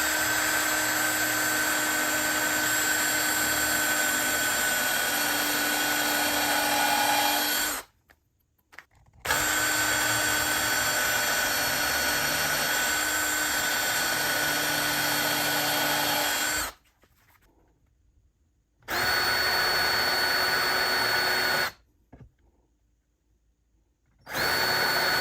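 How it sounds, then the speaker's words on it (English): A power drill bores pilot holes into red oak in three long, steady whining runs, close and loud, separated by short silent pauses. "when I drill my pilot holes, they're going straight into that red oak there"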